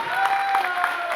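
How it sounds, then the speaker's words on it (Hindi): A large audience breaks into loud, sustained applause at a trainer's motivational seminar, the clapping dense and steady throughout with some crowd noise mixed in. "जोरदार तालियां"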